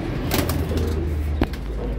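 Breeding pigeons, hens and cocks, coo in double cages, several close, soft throaty coos repeating over a steady low background hum.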